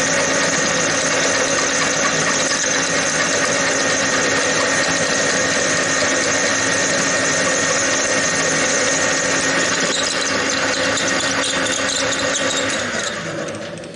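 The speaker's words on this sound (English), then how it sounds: "the drill is not very happy where this set screw is" A drill boring into a lathe gear at a set screw hole makes a loud, steady grinding whine with a strained, squealing edge. It runs continuously for about thirteen seconds, then eases off at the end.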